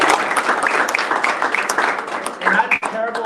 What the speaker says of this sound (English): So just one round of applause for Chamber of Commerce.